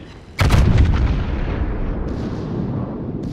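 Battleship Ohio's secondary guns firing in World of Warships, a loud sudden volley of booming blasts with a long rumbling tail that keeps rolling for the rest of the clip.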